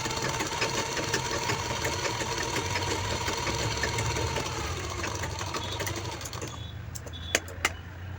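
A sewing machine runs steadily while sewing a half stitch on a peplum top or palazzo pant, giving a continuous whirring hum that winds down near the end, followed by a couple of light clicks.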